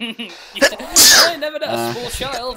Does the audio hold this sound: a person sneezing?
yes